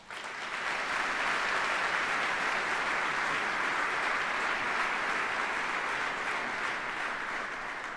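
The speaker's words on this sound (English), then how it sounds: "Please give them a round of applause." A large audience at a military retirement ceremony gives sustained applause for senior enlisted leaders, a thick, even roar of clapping that rises quickly and holds steady for several seconds.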